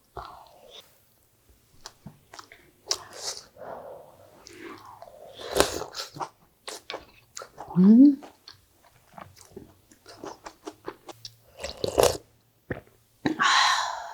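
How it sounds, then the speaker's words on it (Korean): Napa cabbage doenjang soup eaten with a spoonful of rice, heard as soft close chewing and biting with occasional crunches and slurps, scattered bursts separated by quiet gaps. "항암 작용에 좋고 뼈 건강에 좋은 배추 된장국을 먹어보도록 하겠습니다"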